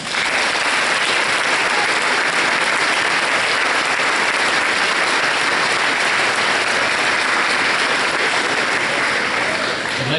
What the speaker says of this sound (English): let's have one big round of applause again for the United States Army